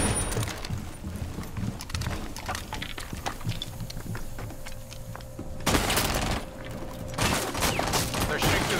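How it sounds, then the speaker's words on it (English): Rapid bursts of gunfire in Rainbow Six Siege on the Kafe Dostoyevsky map, shooting through a skylight, crackling continuously at mid distance with louder, sharper volleys near the end. "They're shooting through the skylight right now."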